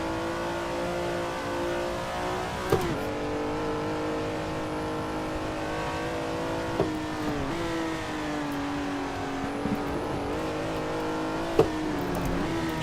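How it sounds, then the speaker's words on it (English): A V12 Ferrari race car engine at Suzuka, sustained loud high-revving drone from onboard with rising and falling pitch through gear changes and a few sharp clicks of shifts, no talk. "Just pretend it's V12 Ferrari ASMR."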